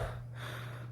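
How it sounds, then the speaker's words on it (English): Heavy breathing close into a microphone: a continuous, rough, rasping rush of air over a steady low hum, loud and near, with no talking. "why am I breathing into the mic"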